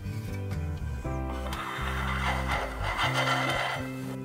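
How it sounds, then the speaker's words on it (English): A metal bench scraper held flat against soft brown-butter buttercream on a carrot cake spinning on a turntable gives a steady rasping, scraping drone with ratchety ticks, close and continuous throughout. "I'm going to use my bench scraper, hold it flat on the top of the turntable, and just start turning"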